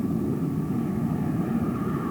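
The jet engines of an American Airlines Boeing 727 roar steadily during the takeoff roll at about 100 knots, heard from inside the cockpit as a dense, constant rumble with no voices.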